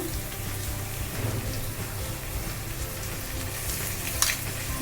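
Chicken frying in a pot with garlic paste and ginger paste for chicken kosha, a steady close crackling sizzle that holds evenly throughout with a faint clink near the end.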